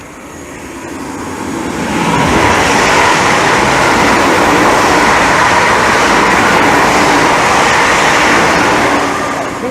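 Class 360 electric multiple units passing at speed on the fast line of the Great Eastern Main Line at Romford, a loud, sustained roar and rumble building over two seconds, holding steady, then easing slightly.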